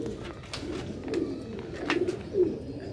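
Pigeons coo on a rooftop loft in Sialkot, a few soft rolling coos repeating at a steady pace, close and clear over faint background noise.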